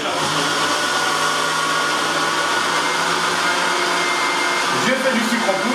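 Electric grinder whirs continuously as it pulverises granulated sugar into icing sugar, a loud steady high-pitched motor roar with a slight shift near the end.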